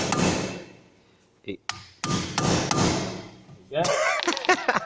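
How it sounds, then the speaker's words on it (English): A manual impact driver is hammered to free the small screws holding the old brake disc on a Honda Civic: a few sharp metallic strikes close by, with brief ringing and a short spoken word. "Impact driver gets them out."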